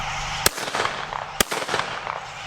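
Two sharp shotgun blasts during a blackbuck hunt in Argentina, spaced about a second apart, loud and close, each followed by rustling and outdoor noise.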